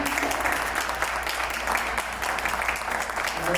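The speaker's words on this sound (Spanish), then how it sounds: "Brindémosle un fuerte aplauso, por favor." Audience at a cultural conference in Veracruz applauding a speaker, a steady wash of many hands clapping at moderate distance, sustained through the whole stretch with a low hum underneath.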